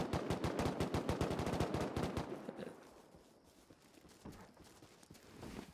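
Rapid bursts of gunfire crackle in a Batman-themed video game, a dense run of quick shots for over two seconds, then quieter, scattered shots after a brief lull.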